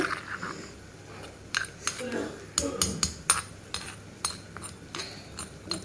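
Green chilli chutney pounded with a pestle in a mortar, a run of sharp clinks and dull thumps in an uneven rhythm, close and fairly quiet, with some clattering of utensils.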